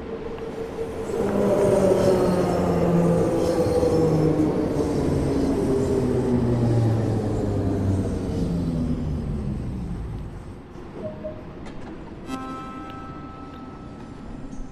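A train in Train Sim World 2 rumbles past on the rails with a loud, steady roll and screeching wheel tones that fade away after about ten seconds, leaving a quieter hum with a brief high tone near the end.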